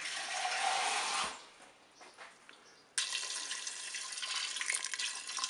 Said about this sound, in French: Je vais mettre de l'eau au ras